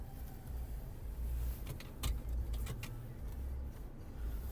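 Electric window motors of a Skoda Octavia VRS hum steadily inside the car, with a low drone throughout and a handful of sharp clicks and knocks midway as the glass moves and stops.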